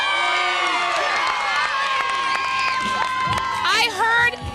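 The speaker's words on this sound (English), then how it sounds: "This is a rowdy crowd." A rowdy crowd of fans cheers and shouts in the stands at the 2008 Badge Bowl game, a loud, continuous roar of whoops and yells with talking mixed in.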